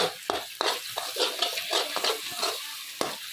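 Nishasta halwa roasting and being stirred in a pan: soft sizzling frying with repeated scraping strokes and sharp spoon-against-pan knocks at irregular intervals, close and fairly quiet, no talking.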